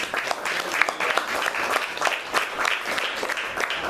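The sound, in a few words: audience applause at club event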